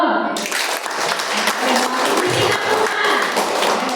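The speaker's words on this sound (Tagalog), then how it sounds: "pwede ba pumalakpak po kayo?" A church congregation breaks into applause during a sermon, dense clapping that holds steady for a few seconds with some voices mixed in.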